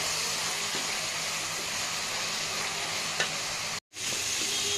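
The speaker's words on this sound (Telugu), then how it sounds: "చూడండి, ఫ్రై అవుతుంది కదా." Fish curry frying in a pan gives a steady, loud sizzling hiss with stirring scrapes throughout, broken by one brief silent gap near the end.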